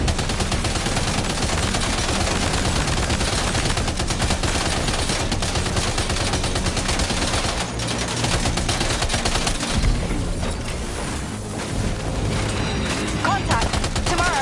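Dense, continuous gunfire in the video game Death Stranding 2, rapid bursts running without pause across the whole stretch at steady loudness, with some voice mixed in underneath.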